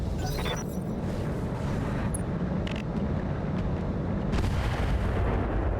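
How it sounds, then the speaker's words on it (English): Battle armor unloads a full weapons salvo in the BattleTech game, a dense, continuous rumble of booming fire with several sharper bursts breaking through, loud and sustained throughout. "Battle armor is choosing violence against the chameleon. Receiving you. Firing a full salvo."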